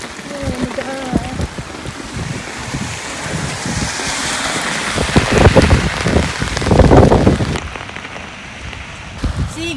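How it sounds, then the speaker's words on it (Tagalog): Heavy rain pours down onto a flooding street in the Philippines, making a dense, loud hiss of drops spattering on water and hard surfaces. A person speaks intermittently over the downpour. "It's flooding! Oh my, it's so raining hard."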